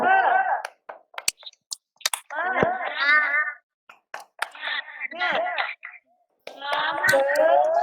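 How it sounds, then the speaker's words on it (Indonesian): During a classroom ice-breaker, a class of children chants in bursts and punctuates the chant with sharp rhythmic hand claps, loud and close, with brief pauses between phrases. "Kita akan tepuk semangat."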